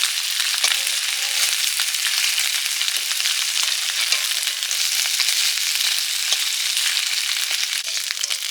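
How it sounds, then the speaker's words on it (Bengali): Fish frying in hot mustard oil gives a continuous, even sizzle and crackle, loud and close, with a steady hiss throughout and no voices. "মাছগুলো ভাজা হয়ে গেছে এবার আমি তুলে নিচ্ছি"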